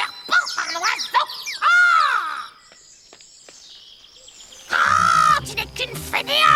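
Cartoon bird calls from a Grimm fairy-tale animation where a turtle has been magically turned into a bird: bursts of squawking, chirping cries, then a quiet pause, then a second loud flurry of calls with background clatter.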